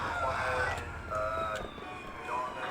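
An ambulance siren in the video game GTA Vice City, a wailing tone rising and falling steadily over street noise, moderately loud and fairly close.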